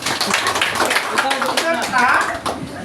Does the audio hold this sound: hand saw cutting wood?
no